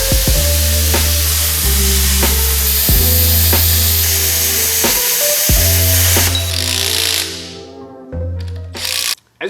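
A power drill boring holes in scrap steel for an offroad differential cover on a Land Rover Discovery build, a loud steady whining motor hum with periodic pitch shifts and clicks, then the drill spins down near the end.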